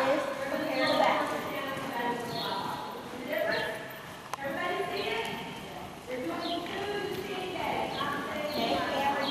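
Hooves of a Tennessee Walking Horse clop on the ground as it backs up in a show ring, several soft, fairly even steps heard under steady background talk and arena noise.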